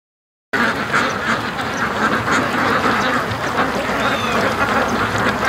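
A large flock of ducks quacks constantly in a yard, with dense, overlapping calls close by and loud throughout, mixed with the rustle of birds moving around.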